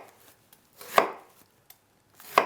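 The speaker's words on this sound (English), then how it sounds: "go through the onion in this manner, about 2 slices" A knife cuts through an onion on a board in two distinct slices about a second and a half apart, each with a crisp, close crunch and nothing else between them.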